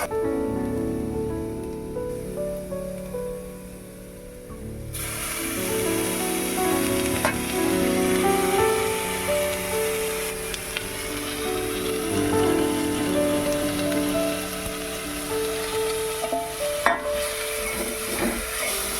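Onion frying in oil in a pan, a continuous crackling sizzle like light rain that swells after a few seconds and carries on steadily with occasional scrapes and clicks.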